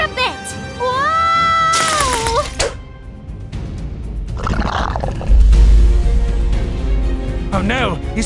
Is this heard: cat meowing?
yes